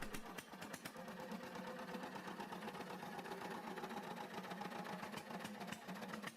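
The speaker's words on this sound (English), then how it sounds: "The MA 516 is a single-cylinder, four-stroke Otto-cycle engine characterized by its massive cast iron construction, low operating speed, and high torque output." A Deutz MA 516 single-cylinder, four-stroke stationary engine with a massive cast iron build runs steadily at low speed, giving off a continuous dense mechanical chugging with rapid regular knocks and no talking over it.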